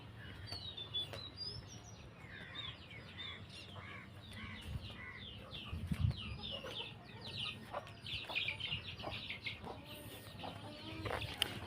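Hens and a rooster in a coop at morning feeding time cluck and chirp in a quiet, slightly distant chorus. Soft overlapping calls and short squawks continue over a low background hum.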